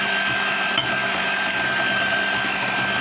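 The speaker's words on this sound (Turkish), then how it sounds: "Mikserimizin en düşük ayarda çırpıyoruz." An electric hand mixer on its lowest setting whisks cupcake batter, its motor whirring continuously at close range, with a constant whine and churning texture throughout.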